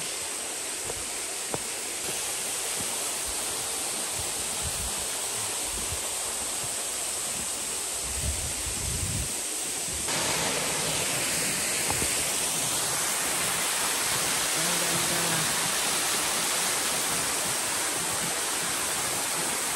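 Rushing water from a stream or waterfall beside a mountain path to Mitaki-dera Temple in Hiroshima, a steady broadband roar that stays loud and constant throughout, swelling slightly in the second half, with no talk.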